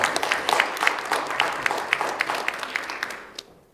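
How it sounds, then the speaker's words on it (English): Audience applause for a guest author at an education conference, a dense burst of many hands clapping that rises quickly and then tapers off toward the end. "She deserves a real round of applause. Give it to her."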